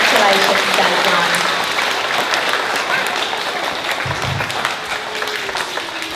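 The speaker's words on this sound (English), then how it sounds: "Let's give these amazing students another great big clap." Applause for young students at a primary school presentation day, a steady wash of many hands clapping that fills the hall for several seconds, with a few voices faintly mixed in.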